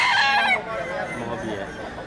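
A Balenggek rooster crows at a rooster-crowing contest held in Padang, West Sumatra, a loud drawn-out call that fades into crowd chatter and background voices.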